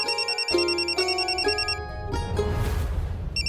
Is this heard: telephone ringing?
yes